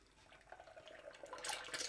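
A fried egg hits hot oil in a pan, and a faint sizzle swells into a louder, crackling spatter toward the end, close and unaccompanied by talk.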